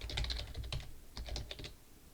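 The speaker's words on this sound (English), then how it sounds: "All right, so I'm going to type the password." A computer keyboard in a lab session as a password is keyed in, two quick bursts of soft clicking at close range with a short pause between them.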